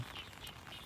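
Frogs croak in a flooded rice field during the rainy season, a faint, steady chorus of overlapping calls that continues throughout with no one speaking.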